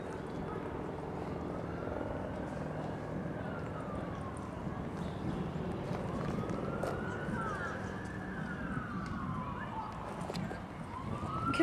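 An ambulance siren wails in slow rising and falling sweeps, moderately distant against a steady background rumble, with people talking faintly nearby.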